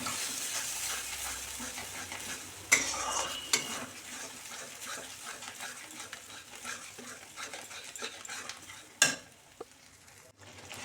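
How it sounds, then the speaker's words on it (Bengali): Spice masala mixed with whisked yogurt is stir-fried in a pan for a paneer dish, giving a soft sizzle under steady stirring and a few sharp utensil clinks against the pan; no voices. "মশলাটা নেড়ে নেড়ে কষে নিতে হবে।"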